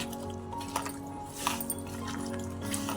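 Wet squelching and squishing as chicken is kneaded by hand with crushed tomatoes and spices, soft irregular drips and squelches up close, steady throughout.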